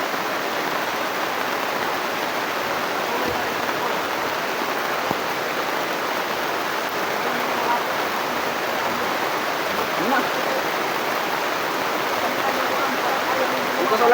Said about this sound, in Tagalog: Pundaan na yung ulan.